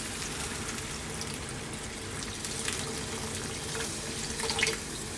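Water runs from a tap into a wok for Indian-style vegan lentil soup, a steady filling stream throughout with a brief louder splash near the end, no talking.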